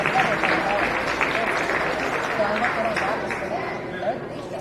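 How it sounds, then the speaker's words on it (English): Applause from the audience at a county fair poultry show, a steady wash of clapping blended with crowd murmur and scattered voices, holding fairly even throughout before easing slightly at the end. "give it a round of applause"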